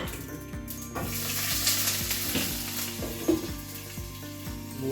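Mustard seeds splutter in hot oil in a pan for a Kerala home-style dish, giving a constant sizzle broken by scattered sharp pops, close and without speech.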